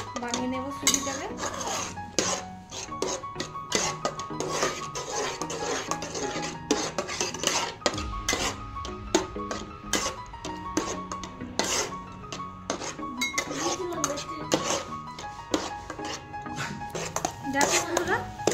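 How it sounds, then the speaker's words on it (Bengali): Semolina is stirred in a pan for gulab jamun as it thickens, giving repeated scraping and rasping strokes of the utensil against the pan throughout, with occasional clinks and a voice talking over it. "আর একটু ভালো করে নেড়ে নেবো, একটু শক্ত করে নেব।"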